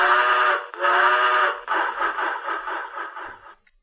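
A train whistle sounds in a kids' music game app, loud and close with no speech: two long steamy hoots, then a shakier, fluttering blast that trails off.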